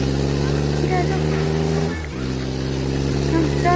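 A car engine hums and revs close by, steady with a brief dip as it shifts before pulling off, while people talk urgently over it.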